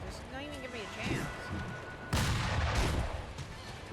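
Gunfire from an enemy in Sekiro, with heavy booming shots cracking out mid-clip over game music, while someone talks.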